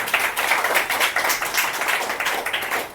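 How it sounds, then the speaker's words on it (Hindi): Dense applause from an audience honoring their great guru, many hands clapping steadily and loudly for the full few seconds with no voices over it. "अपने महागुरु के लिए जोरदार एक बार ताली चाहता हूं"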